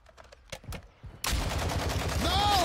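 Gunfire in a shooter video game breaks out after a quiet start with a few faint clicks, then becomes a loud, dense, continuous burst of shots that carries through to the end.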